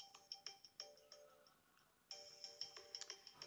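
A phone ringtone for an incoming call plays as a quick repeating electronic melody of short plucked notes, pausing briefly and then starting again, fairly faint with no talk over it.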